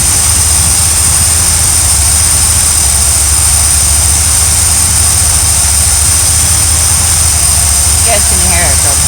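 A small engine runs steadily on heavy choke after warming up, a loud continuous drone with a rough, uneven character that roughens near the end.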